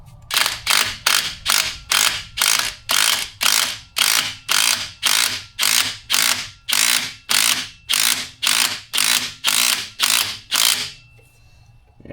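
A hand ratchet tightens a bolt on a 5.4L Ford F-150 engine, close up, with about twenty loud, evenly spaced ratcheting strokes in a steady rhythm.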